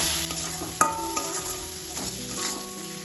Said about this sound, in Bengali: এবার সব মশলাগুলো তেলের সাথে ভালোভাবে কষিয়ে নেব।